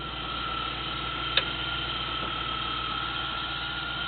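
A fuel-injected Triumph TR8 engine idles outdoors with a steady low hum and faint mechanical ticking, plus one small click partway through.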